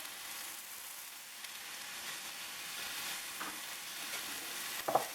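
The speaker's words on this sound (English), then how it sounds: "I give that a good sear on both sides" Seasoned beef searing in a hot pan for vegetable beef barley soup, a steady close sizzle and frying hiss running throughout with no talking.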